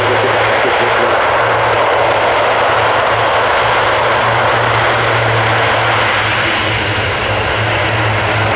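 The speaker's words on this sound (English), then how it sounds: "Natürlich durch den Umkehrschub, den seine Propeller in dem Fall erzeugen." An Airbus A400M at the ILA Berlin air show roars with loud, continuous propeller engine noise as its propellers produce reverse thrust, a deep steady drone that fills the whole span.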